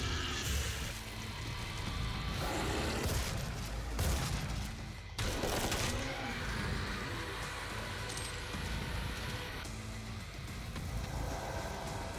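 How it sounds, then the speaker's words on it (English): Chain gun on a mobile turret hammering away in the 2016 DOOM game, a loud, dense stream of rapid shots in sustained bursts broken by brief pauses, with explosive hits layered over the firing. "I think the mastery of the chain gun will be pretty easy with the mobile turret"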